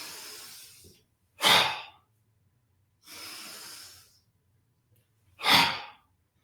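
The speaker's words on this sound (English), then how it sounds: "Gather it up, breathing in," Slow breathing during a shiatsu energy-work exercise: two long soft inhalations alternating with two sharper, louder exhalations, close and alone, with silence between breaths.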